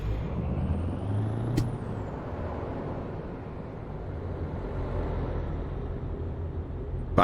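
Air brakes on a lorry in Euro Truck Simulator 2, with a sharp hiss burst near the start over a steady low engine rumble, and another brief release at the very end.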